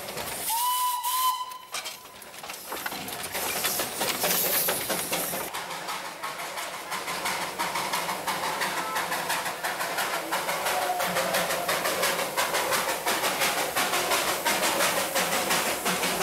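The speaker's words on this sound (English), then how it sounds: "The one outstanding relic of the old days is Darjeeling's Victorian toy train." Darjeeling's Victorian toy steam train sounds a sharp whistle, then a loud, continuous hiss of escaping steam runs on for many seconds, close by and unbroken.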